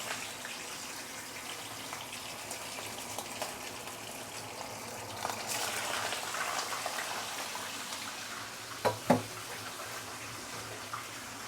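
Fish frying in hot oil, a continuous hissing, bubbling sizzle that swells midway, with a couple of sharp clicks near the end and no talking.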